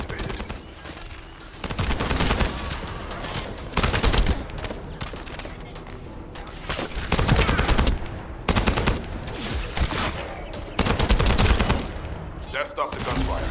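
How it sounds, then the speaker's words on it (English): Bursts of rapid automatic gunfire in the video game The First Descendant rattle repeatedly, loud and close, with brief pauses between volleys and some indistinct voices mixed in. "That stopped the gunfire."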